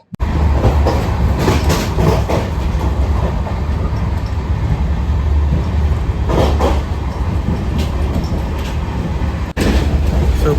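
A passenger train travels on rails from Secunderabad to Vijayawada, a steady, loud, continuous rumble with rattling carriage noise and occasional clatter, heard from inside the coach.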